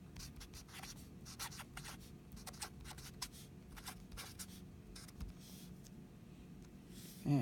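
A pen scratches across paper in quick irregular strokes and taps, close and quiet, with short pauses between marks while working a math problem.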